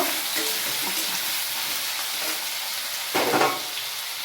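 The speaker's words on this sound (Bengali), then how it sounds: "কি ভাজা ভাজা হবে নাকি মা সামান্য ভাজা সামান্য ভাজা হবে" A steady, close sizzle of vegetables frying in a pan for cabbage, potato and pea curry, with a brief stirring scrape near the end; no talking.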